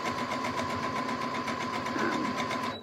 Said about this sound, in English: We're gonna sew over this edge